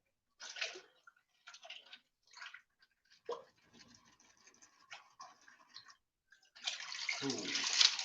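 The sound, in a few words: water being dumped out into a container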